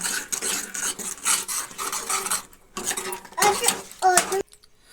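A spoon stirs turnip curry in a pot after coriander and garam masala go in, making scraping and clinking bursts in an uneven rhythm that fade to near silence at the end, close up.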